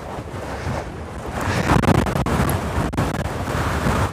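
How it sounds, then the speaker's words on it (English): Strong wind buffets the microphone near a lava flow in Natthagi valley, a loud continuous roar that swells and gusts with rumbling low-end, and no voices. "with very strong wind"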